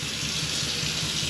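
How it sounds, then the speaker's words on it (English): Water runs steadily into an RV's toilet and gray holding tank, a constant close rushing hiss that holds level throughout with no talk over it. "And then we run a bunch of water to fill up the gray tank a little bit."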